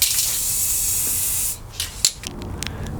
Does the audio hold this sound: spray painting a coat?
yes